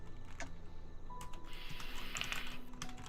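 Quick, uneven clicks of typing on a computer keyboard in game chat while playing Fallout 76, close and fairly quiet, with a few bursts of taps over a low hum.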